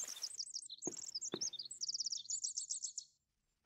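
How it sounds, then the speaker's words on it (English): A lone bird in the woods of The Forest chirps in quick rising-and-falling trills and repeated tweets, clear and close against an otherwise quiet background with a couple of soft thuds. "It's a nice bird."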